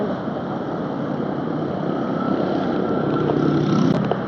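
Steady roar of motorcycles passing on a highway, engine hum rising slightly toward the end, continuous and fairly close with no voices.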